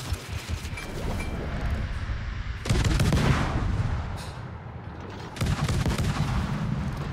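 Warship guns in the World of Warships video game fire salvo after salvo, dense rumbling barrages with fresh loud bursts surging in around the third and fifth seconds.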